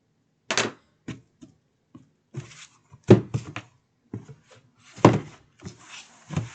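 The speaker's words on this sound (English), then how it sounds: "I'm going to take my scissors and trim off some of that." Several sharp snipping cuts of scissors trimming cardboard in irregular bursts, close and crisp, with quiet pauses between them and no talking.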